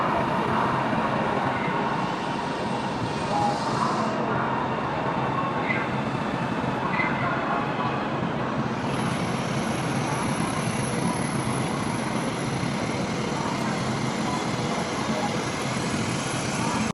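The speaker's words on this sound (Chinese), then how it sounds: "CR400AFS 红神龙重联进站，同时由上海局担当的惠州北至深圳北 G6321次和谐号 CRH380B 重联进站" Coupled CR400AF and CRH380B high-speed trains pull into Shenzhen North station, giving a steady, loud broadband rumble and roar throughout with a thin high whine joining partway.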